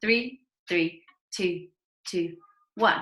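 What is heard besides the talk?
No distinct noise like a dog, phone or traffic.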